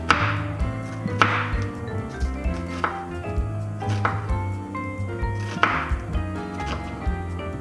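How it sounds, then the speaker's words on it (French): Onion cut finely with a knife on a cutting board, a handful of distinct sharp knocks spaced a second or so apart over a steady background of music, with no voice. "On va devoir couper aussi un oignon très fin."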